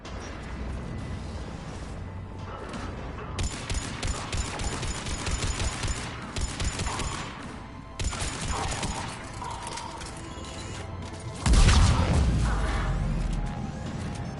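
Heavy cannon fire and gunfire in Mass Effect Legendary Edition during a hangar assault, with repeated sharp bursts and mechanical clatter over a steady battle din, ending in a loud, deep boom.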